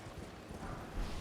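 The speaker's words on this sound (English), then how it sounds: "I have to get off my horse." Horse hooves clip-clopping in Elden Ring, a soft, steady galloping rhythm at low level with no talk over it, swelling slightly toward the end.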